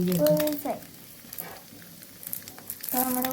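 An egg fries in a pan for Kerala-style egg curry, giving a soft, steady sizzle with short louder crackles. People talk over it for much of the time.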